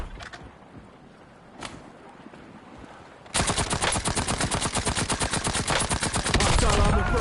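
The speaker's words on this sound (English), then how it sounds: "Nail gun kill." Rapid automatic fire from a nail gun in Call of Duty Warzone suddenly opens up after a quieter stretch, a loud, steady stream of sharp shots that runs to the end without pause.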